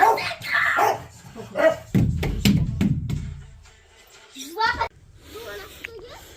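Dog barking and yipping in short bursts up close, mixed with a few whimpers, with people talking around it.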